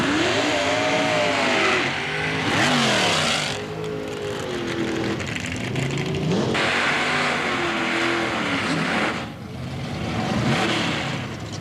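A rear-engine dragster and a Camaro race in a drag strip contest, with loud, close engine roars that rise and fall as the cars rev and launch, in several surging bursts with no talk over them.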